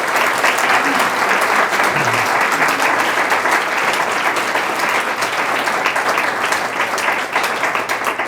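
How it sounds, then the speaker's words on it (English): Sustained applause from the audience at the Isle of Palms candidate forum, a dense, steady wash of many hands clapping that holds loud and even throughout, with faint voices beneath. "let's give all our candidates a round of applause"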